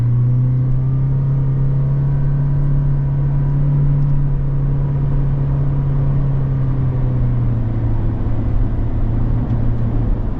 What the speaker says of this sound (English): Takes off a lot faster, gets up to speed a lot faster, but the drivetrain seems a lot louder.